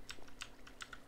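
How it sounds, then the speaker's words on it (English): Quiet, close keystrokes clatter on a computer keyboard in short irregular bursts of clicks. "You're typing something, aren't you?"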